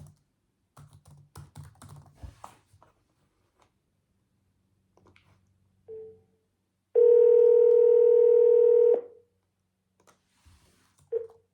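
A telephone calling a second number: keypad presses tapped in a quick cluster, then a loud steady tone lasting about two seconds, with a few faint clicks around it.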